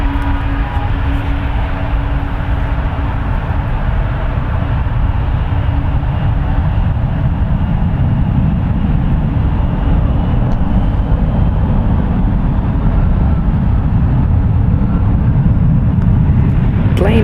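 A 28-year-old United Airlines Boeing 757-200 jet bound for Boston produces a loud, steady broadband roar with a low rumble and a faint tonal whine that fades midway, continuous and without speech.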